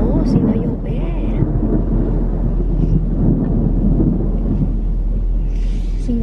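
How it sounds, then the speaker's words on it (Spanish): Thunder rumbles steadily across the sky as a storm rolls in, a continuous deep roll filling the whole stretch with light rain or wind noise mixed in. "está tronando el cielo"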